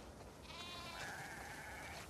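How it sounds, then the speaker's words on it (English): Sheep bleat in a farm setting in the video game The Last of Us Part II, with a wavering, nasal bleat rising over a steady background hiss and quiet ambience. "We definitely have way too many sheep."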